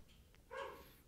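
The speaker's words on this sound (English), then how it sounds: "So if you hear barking in the background" A foster dog barks once, faintly in the background of a quiet room, a short single bark with no other activity around it.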